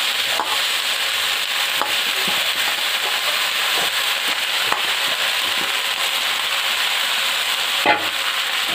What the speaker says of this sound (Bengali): এখন একটু লাগিয়ে আমি শাকটা দিয়ে দিচ্ছি।